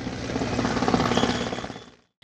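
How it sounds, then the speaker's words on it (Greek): A firefighting helicopter dropping water over a fire in a densely built industrial area of Heraklion gives a loud, close rotor and engine roar with a pulsing beat that fades out over about two seconds. "Στην κατάσβεση από αέρο συνέδραμε και ελικόπτερο που πραγματοποίησε ρήψεις νερού"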